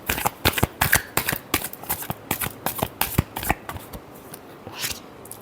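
Tarot cards are shuffled close up in quick riffling bursts, a rhythmic series of crisp flutters and soft slaps that slow toward the end.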